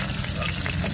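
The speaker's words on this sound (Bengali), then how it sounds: "দেখতে পাচ্ছেন মাছগুলো ভেজে নিচ্ছে।" Kekle fish frying in a pan of oil makes a dense, continuous close-up sizzle for a brief moment.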